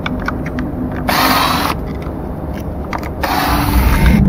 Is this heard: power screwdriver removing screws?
yes